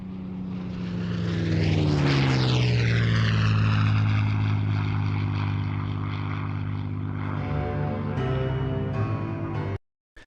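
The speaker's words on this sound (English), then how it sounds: "It's not often you get the opportunity to record clear sound of aircraft like that at air shows." A propeller aircraft roars past at an air show, its engine pitch sweeping downward as it passes overhead and recedes, loud and steady before cutting off abruptly.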